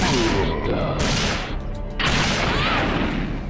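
Loud, continuous gunfire and booming blasts from the Resident Evil 3: Nemesis video game played on PC, heavy thuds layered in a dense, unbroken barrage.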